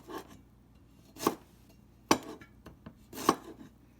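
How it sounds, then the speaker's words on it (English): A knife slicing ginger on a cutting board in a home kitchen, three or four crisp separate cuts close by, with quiet between them. "Just need a couple slices of ginger."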